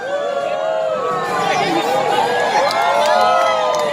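A large outdoor crowd cheers and chatters steadily as a parachutist lands during a skydiving show in the middle of Makassar city. An announcer's voice sits over the continuous crowd noise.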